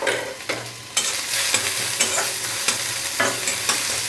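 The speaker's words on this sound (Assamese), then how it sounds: "মছলাখিনি এনেকৈ ধুনীয়াকৈ ভাজি ল'ব লাগে, আৰু এইখিনি এতিয়া মই ৰংচোৱালৈকে ভাজি থাকিম।" Spice masala frying and being stirred in a pan while making a steamed katla fish dish, with steady sizzling throughout and several scraping stirring strokes up close, no talk.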